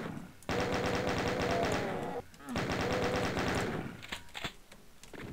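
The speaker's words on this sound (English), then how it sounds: "Who the hell is shooting me?" Rapid automatic gunfire from a video game, loud sustained bursts of machine-gun fire with a short break, then scattered single shots trailing off as the shooting thins out.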